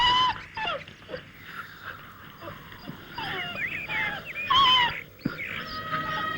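A sick dog whimpers and yelps in repeated high, wavering cries while being struck with stones, close by amid scuffling, with people's voices in the background.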